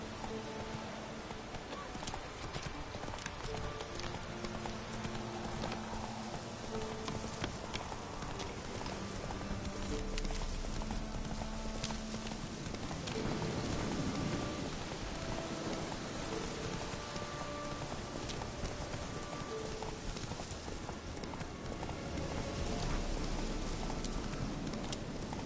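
Roach, Geralt's horse in The Witcher 3, trots with steady rhythmic clip-clop hoofbeats through continuous hissing rain, with an occasional snort and brief game voices in the background.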